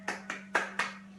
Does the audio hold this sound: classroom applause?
yes